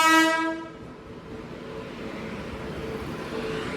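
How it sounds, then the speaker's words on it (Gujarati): At a railway station, a Delhi-bound passenger train arrives with a short, loud horn blast at the start. A low, steady rumble of rolling wheels and carriages follows and grows slightly louder, with no one speaking. "આપણે ટ્રેન આવી ગઈ છે દિલ્હી જવા માટેની"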